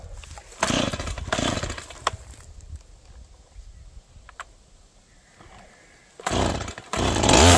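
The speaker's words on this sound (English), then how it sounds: "today, Farmer Joe needs some Makita 40 volt" A Makita 40-volt cordless power tool, used for digging a fence post hole, revs in loud bursts at the start and again near the end, with quieter stretches between.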